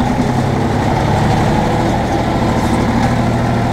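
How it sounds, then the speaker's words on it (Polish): An Ursus C360 tractor engine runs at high revs during post-harvest cultivator work, a loud, steady, rumbling drone heard close up with no break or change across the whole stretch. "bo jednak te obroty silnika są większe niż ostatnio przy innych pracach"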